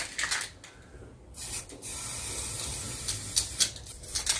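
Hammerite paint sprayed from an aerosol can onto a van subframe, close short hissing bursts that sputter and stop between sprays, no talk.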